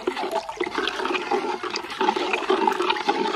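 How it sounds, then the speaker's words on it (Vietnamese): A liquid IMO4 microbial culture for compost is stirred, giving a steady, continuous sloshing and swirling of water close by with no talk. "Thì mình sẽ tiến hành khuấy lên cho các bạn xem."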